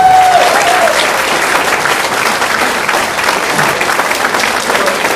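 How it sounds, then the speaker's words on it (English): Loud, sustained applause from a large crowd at a gala fills the space, steady clapping with no pauses. "a big round of applause for Dr. Caruso."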